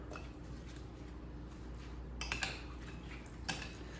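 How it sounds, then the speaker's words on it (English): Baked oatmeal mixture with maple syrup for a cinnamon raisin bake, stirred in a bowl: faint spoon scraping with a few light clinks against the bowl. "Give it all a good stir."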